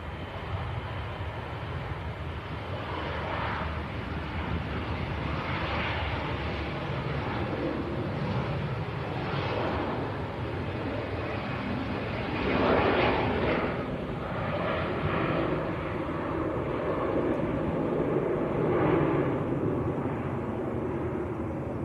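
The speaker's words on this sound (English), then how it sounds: "Jet 2 to Paris is on the roll. I can hear it coming." A Jet2 airliner bound for Paris takes off from Leeds Bradford Airport, its engine roar heard as a distant, steady rumble that swells in slow waves over about twenty seconds with no talk.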